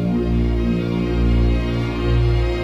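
A 1980 song sampled in a track, a sustained, warm musical passage with steady tones and a full low end, playing continuously with no voices.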